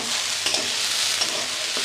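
Young onion flower stalks with beetroot, carrot and potato fry steadily in a pan with a pinch of garam masala, giving a continuous close sizzle broken by a few soft stirring scrapes, with no voices.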